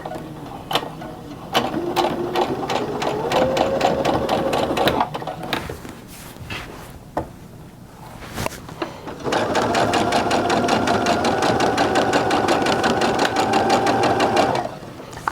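A domestic sewing machine stitches a patchwork quilt seam at regular stitch length, running in two long steady bursts of rapid needle chatter separated by a brief pause, close and clear with no talk.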